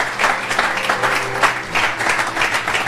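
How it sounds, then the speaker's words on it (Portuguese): A church congregation claps and applauds during an evening family worship service, a dense, steady wash of many hands filling the space at close to moderate distance, with no talk over it. "Dê um aplauso a Jesus."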